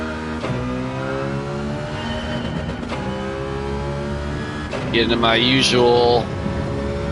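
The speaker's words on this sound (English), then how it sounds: "I'm gonna do a few laps in the Citroen" A Citroen race car in a racing video game drives laps, its engine droning steadily with rising and falling gear tones and a louder rev surge near the end, with a voice talking over it.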